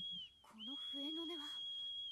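A signal whistle sounds at night from a tea room near a retiree estate: a sustained high, even tone that dips briefly and then carries on, with a voice speaking underneath it.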